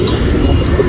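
A domestic pigeon, a show-type Dumal hen, coos close by in a low, throaty, continuous rumble.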